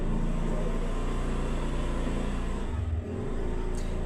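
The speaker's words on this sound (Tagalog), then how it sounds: "Ingay ng motor, pasensya na." A motor vehicle engine drones nearby in a steady, fairly loud hum that holds continuously, dipping briefly near the end, with no talking over it.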